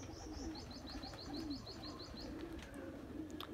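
Golden DubWala pigeons with red eyes coo in soft, repeated low rolls, with a run of quick chirps at the start, heard fairly faint against a background hum.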